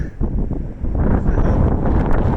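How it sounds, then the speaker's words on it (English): Blustery wind gusting on a trail in Great Smoky Mountains National Park, loud continuous buffeting roar against the microphone that swells and stays strong throughout, no talking. "Sure is a blustery day."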